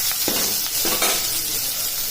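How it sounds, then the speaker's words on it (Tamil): Onion added to hot oil with popped mustard seeds for a snake gourd kootu, a loud close sizzle with a few stirring scrapes, steady over two seconds, no voices. "இப்போ நான் வெங்காயம் போட்டுக்கிறேன்."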